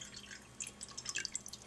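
Bottled water from a half-liter bottle pours into a cooled cooking pot, heard as faint, sparse, irregular drips and splashes in a quiet room.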